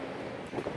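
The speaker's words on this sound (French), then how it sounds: "on arrive sur le vieux port, il y a un petit peu de vent" Wind buffets the microphone at the old harbour by the sea, a steady close rushing blast with slight gusting toward the end and no voices.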